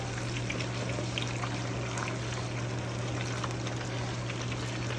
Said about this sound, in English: You want hot oil to work with, because it's going to give you the best end result. See that? It's getting nice and crispy.